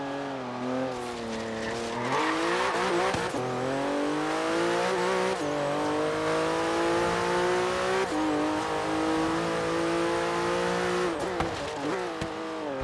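A Turbo S sports car engine in Forza Horizon 3 revs hard and climbs through gears, loud and continuous, with brief dips at each shift.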